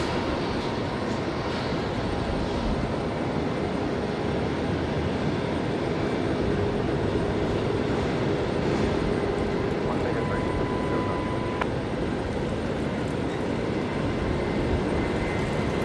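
An Emirates aircraft pushes back at Brisbane Airport, heard as a dense, continuous jet engine roar and rumble from inside the cabin, steady throughout with faint voices underneath.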